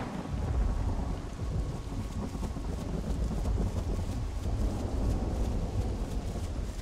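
A thunderstorm in the dinosaur survival game The Isle: heavy rain pours continuously with low rumbling thunder rolling underneath, a dense, steady roar with no voices over it.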